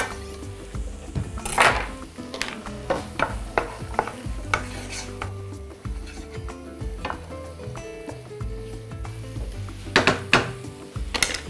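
Carrots frying with browned onions in a pan for chicken and bulgur pilaf: a steady sizzle with repeated close scrapes and clatters of a spatula against the metal.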